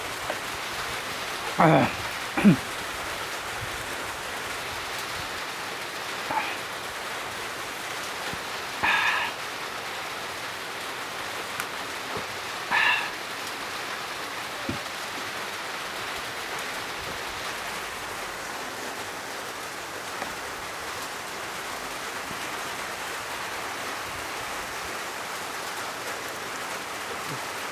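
Steady rain falls on a flooded, muddy mini farm, a soft continuous hiss with a few brief louder splashes or knocks early on and a single short voice.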